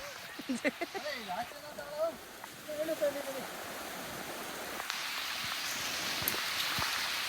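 Heavy rain pours down outdoors near a lake during a crab hunt in Hassan, a steady loud hiss that swells and takes over after brief voices at the start.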